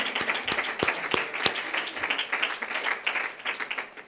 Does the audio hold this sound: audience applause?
yes